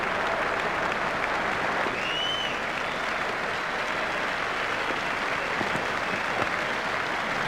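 Steady stadium crowd applause in the cricket video game EA Sports Cricket 2002, during a World Cup match of India against Kenya, a broad continuous wash of clapping that holds at an even level throughout, with no voices over it.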